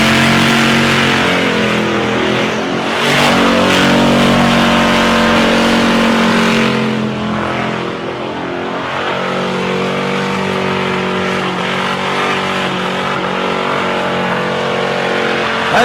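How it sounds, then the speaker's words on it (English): A Holden Rodeo ute at a street drags event revs hard at speed, its engine screaming high in the rev range with a loud, sustained, slightly wavering drone and a brief dip midway. "Jace bringing the Rowdy 1 Rodeo at speed back up the pad"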